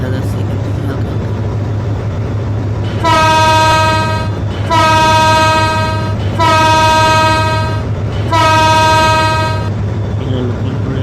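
The Barendra Express, running Rajshahi to Chilahati, sounds its horn near Lakshmipur railway station: four long, loud blasts with short gaps, over a constant low rumble of the moving train.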